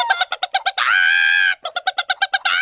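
A hen clucks in a rapid run of sharp, bright calls, breaks into one long drawn-out squawk, then goes back to quick clucking, close and loud with no other sounds.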